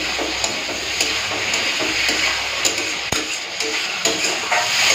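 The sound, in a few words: potatoes being sautéed with spices in a pan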